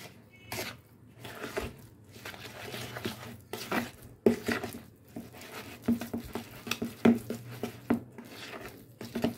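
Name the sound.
stirring Oreo cake batter while adding milk two spoons at a time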